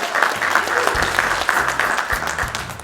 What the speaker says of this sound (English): It deserves a little round of applause for that